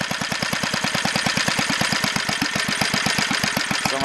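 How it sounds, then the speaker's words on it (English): A Briggs and Stratton 60102 engine converted to run on propane chugs steadily with rapid, even firing pulses, close and loud, alone without talk. "Slow my engine down."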